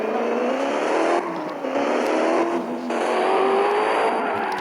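A racing car engine in a video game drones steadily at high revs, with rising and falling pitch as it accelerates and shifts, loud and continuous with no talk.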